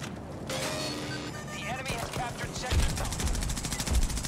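Turret gunfire in Battlefield 2042 comes in rapid automatic bursts that build into heavy, thudding fire in the second half, loud and close amid battle noise.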